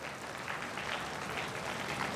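Steady applause from a crowd at a Vedic school consecration ceremony, dense clapping that stays even and continuous throughout, heard alone without talking.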